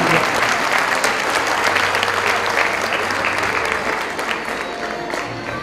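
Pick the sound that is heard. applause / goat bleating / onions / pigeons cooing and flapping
applause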